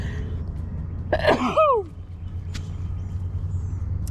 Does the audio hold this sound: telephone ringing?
no